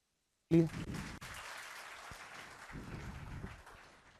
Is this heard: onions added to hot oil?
no